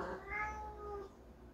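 A house cat meows insistently to be let outside, a single drawn-out, rising-then-falling cry lasting about a second, close and clear over faint room hum.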